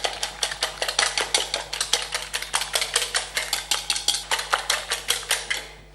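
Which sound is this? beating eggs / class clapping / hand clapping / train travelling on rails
beating eggs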